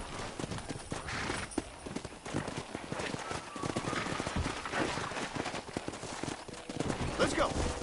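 Horse hooves clip-clopping in Red Dead Redemption during horse wrangling, rapid, continuous beats under in-game talk and background game sound.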